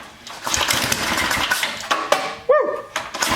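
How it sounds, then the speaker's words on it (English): A small leaf blower engine fitted with a 100-year-old spark plug sputters and runs in rough uneven bursts close by, with clanking and a short squeal midway. "Now this is just to show you that this engine does run."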